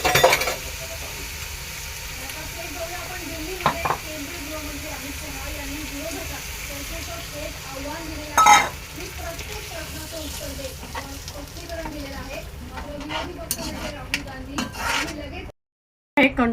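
Masala frying in a pan with roasted kantola (spiny gourd) added, a steady sizzle running throughout, broken by a few utensil clinks and a sharp clatter near the middle, with a brief drop-out near the end.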